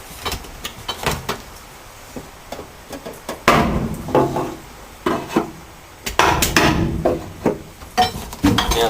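Hammer blows on an interior panel of a 1985 Mazda B2000 ute, struck in a cramped spot with little room to swing, giving irregular sharp metallic knocks and clatter at close range, some in quick clusters.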